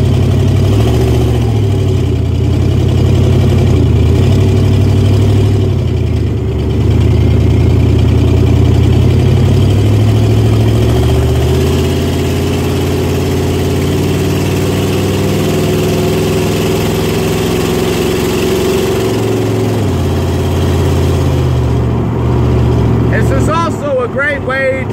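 A Ford E150 van runs with its engine cover off while driving, giving a loud, close, steady low engine drone with mild rises and falls in pitch as a person talks over it.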